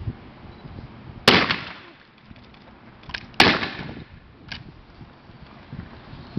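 Two sharp blank-round gunshots at an outdoor exhibition in Pluckley, each a loud crack with a short decaying tail, spaced about two seconds apart, with fainter pops between.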